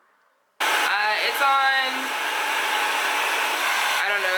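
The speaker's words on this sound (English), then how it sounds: "Take your blow dryer." A blow dryer set on high kicks on after a brief moment of quiet and runs as a loud, steady whirring blast, with someone speaking briefly over it near the start.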